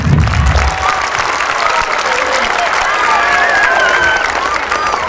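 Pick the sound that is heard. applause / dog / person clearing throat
applause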